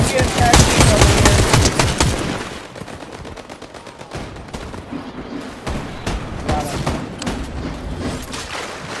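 Rapid mounted-turret gunfire in a Fortnite match, a loud sustained burst of machine-gun fire that thins into scattered shots and dense rattling, with other gunfire and impacts mixed in.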